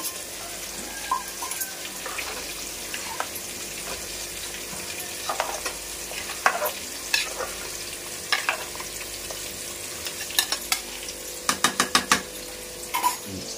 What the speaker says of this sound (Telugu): ఇప్పుడు కొద్దిగా టమాటా పేస్ట్ అయితే పెట్టినాం కదా, టమాటా పేస్ట్ కూడా వేసుకోవాలి.